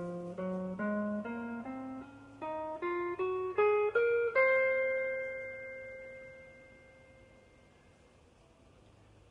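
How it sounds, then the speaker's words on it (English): A guitar plays the C Locrian scale one note at a time, ascending in an evenly spaced run of plucked tones that climb in pitch before the top note rings out and slowly fades. "C Locrian. Your scale should sound like this."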